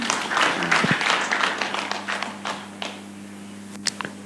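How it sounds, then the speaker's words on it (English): Applause at the launch of a university Center for Teaching and Learning Excellence, dense clapping from an indoor audience that thins out and fades over about three seconds, leaving a few scattered claps and a steady hum. "Let's give them a round of applause."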